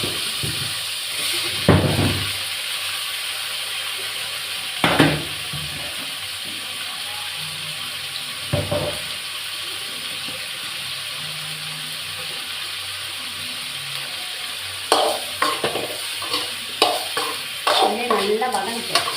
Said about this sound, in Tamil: அதே எண்ணெயிலே வதங்கணும் தக்காளி.